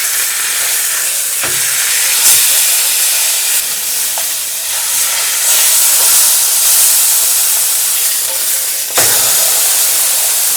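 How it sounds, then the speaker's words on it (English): A piece of beef browning and searing in a pressure cooker, a loud continuous hiss and sizzle with a few brief thuds as the meat is turned, and no talking. "we're going to try to brown off as much of the surface area of this beef"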